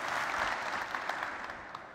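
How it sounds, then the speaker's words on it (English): Applause from the crowd at a GitHub Satellite 2019 keynote, a steady wash of clapping that holds fairly even and thins slightly toward the end. "Let's give these folks a big round of applause"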